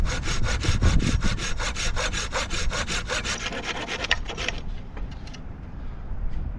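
A hand saw cuts through a wooden stick for a campsite tripod by the ocean, with rapid rhythmic close strokes that slow and soften toward the end.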